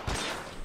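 Automatic gunfire in the L.A. Noire video game: a short, loud burst of rapid shots with a dull low thump at the start and another at the end.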